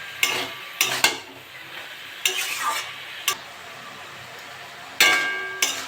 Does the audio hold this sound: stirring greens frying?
yes